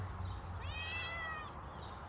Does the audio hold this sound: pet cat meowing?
yes